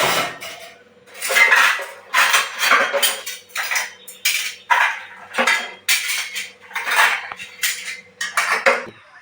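Freshly washed dishes and metal utensils are stacked and put away, with repeated loud clattering and clinking in irregular bursts close by, and no talking.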